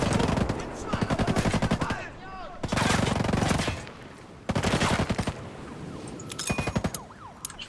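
Gunfire in the video game Ghost Recon Breakpoint: loud, close bursts of rapid automatic fire, several volleys a second or so long separated by short gaps, with quieter clatter in between.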